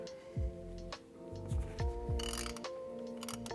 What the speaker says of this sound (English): I want you to crack the fill bolt first